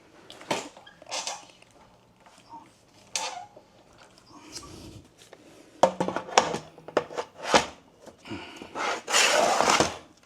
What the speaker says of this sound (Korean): 이제 배터리를 껴보겠습니다